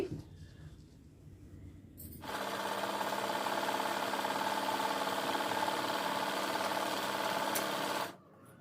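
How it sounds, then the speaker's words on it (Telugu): Sewing machine running steadily as it stitches along the canvas lining of a designer blouse, a continuous close mechanical whir of about six seconds that starts abruptly after quiet and stops cleanly. "ఇప్పుడు ఇక్కడ నుంచి ఈ క్యాన్వాస్ వెంబడి ఇలా స్టిచ్ వేసేసేయండి"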